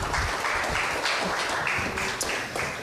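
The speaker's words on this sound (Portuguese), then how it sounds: "Salva de palmas." A congregation claps together at a church service in Portuguese, a brief, fairly loud burst of applause that holds steady for a few seconds.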